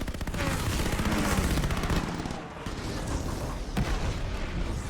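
Dense, continuous rapid anti-aircraft gunfire roars throughout with booming bursts in a Call of Duty: Vanguard battle, loud and unrelenting.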